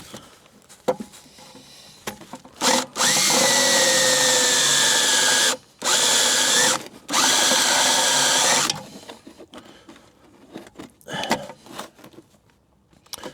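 A power drill drilling into metal on a Mercedes SL R230 whirs loudly in three sustained bursts separated by short pauses, with scattered clicks and handling noises before and after.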